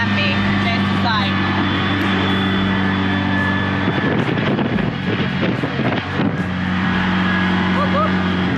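Small three-wheeled tuk-tuk engine droning steadily at close range while riding into the Welsh seaside town of Tenby, with wind buffeting and voices talking over the continuous motor hum.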